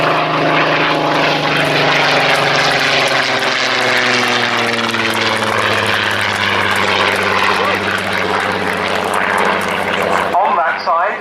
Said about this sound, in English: One more pass from the Spitfire.